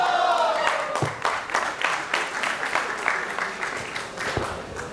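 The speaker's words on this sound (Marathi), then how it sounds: "तर या महफिलीसाठी होऊन जाऊ द्या एकदा टाळ्यांचा वर्षाव." Audience applause at a Marathi stage interview event, a steady burst of many hands clapping that fills the whole stretch evenly, loud and close, with a faint voice showing through at moments.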